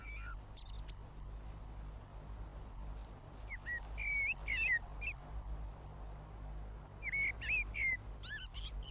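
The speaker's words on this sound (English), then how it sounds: "Then there are the blackbirds, the male" Blackbirds, male and female, sing in a British garden: scattered fluty, warbling phrases at moderate distance over a steady low background hum, with pauses between bursts and no voices.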